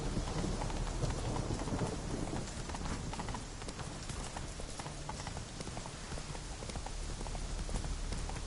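Roach the horse trots in a video game, hooves clip-clopping in a steady, continuous rhythm over a constant wash of rain-like background noise.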